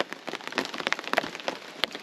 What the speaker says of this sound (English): It's been raining since about 6 o'clock.